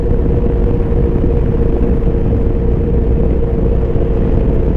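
Loud, steady buffeting of wind over a helmet-mounted mic while driving the Acre Shaker, with a low engine and road rumble running continuously beneath it on small 26x9x14 tires.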